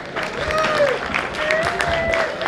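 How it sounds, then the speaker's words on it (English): An audience at a campus CSE-AIML event applauds briefly as guests take the stage, with clapping mixed under other sounds. "Give them a round of applause."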